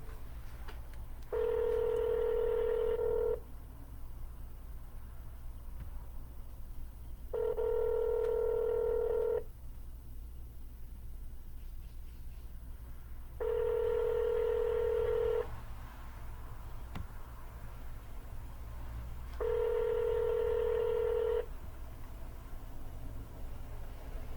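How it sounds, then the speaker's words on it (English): Four bursts of telephone keypad dialing tones during an outgoing phone call, each about two seconds long and evenly spaced, loud and clear over a steady low hum with no talking. "I'm going to try to call him again and see if I can get him on the phone"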